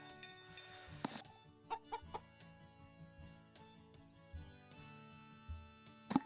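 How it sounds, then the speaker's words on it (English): A chicken in a newly built coop in the Story of Seasons farming game gives short, sparse clucks. They play over quiet game music with soft chimes and plucked notes. "We now have a coop and our first chicken."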